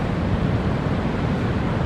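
Heavy surf surges through the St Lucia Estuary, a steady broadband rush of churning water with wind noise over the microphone, constant and close throughout with no voices.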